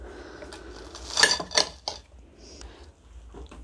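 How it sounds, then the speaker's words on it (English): A knife cutting open an onion ring filled with cheese and spinach, giving a few close clicks and scrapes of the blade against a plate, with two sharper taps in the middle. "I'm just going to cut one open so you can see what it looks like inside"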